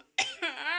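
A child at home gives one short, close cough that trails into a brief voiced rasp.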